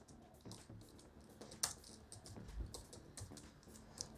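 Quiet, close clicking of fingers typing on a computer keyboard in an irregular rhythm, with a few sharper key presses such as the enter key.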